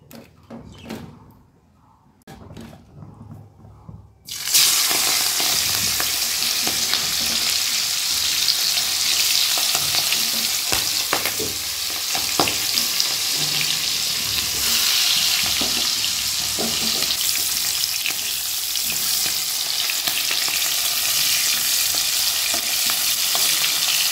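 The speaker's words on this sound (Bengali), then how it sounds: "তো চলো ভেজে নিই।" Prawns fry in a pan with a loud, steady sizzle that begins after a few quiet seconds and carries on unbroken, with occasional stirring clinks.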